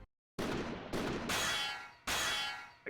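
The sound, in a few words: gunshot striking armor in the video game Code Realize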